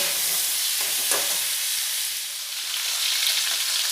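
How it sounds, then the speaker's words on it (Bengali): Cauliflower pieces seasoned with turmeric and salt frying in a pan, a continuous close sizzle and hiss with faint stirring scrapes early on. "দিয়ে ফুলকপিগুলো খুব ভালো করে ভেজে নেব।"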